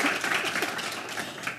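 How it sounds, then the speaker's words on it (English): An audience at a women-on-boards event applauds warmly, a brief, even spread of many hands clapping with no voices over it. "So give her a very warm round of applause."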